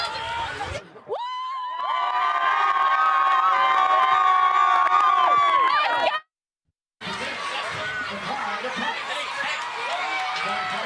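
A large crowd cheers and shouts at a Pryor vs Claremore high school football game, a loud sustained roar with high whistles and children's yells that breaks off briefly, then resumes as a busy, chattering din.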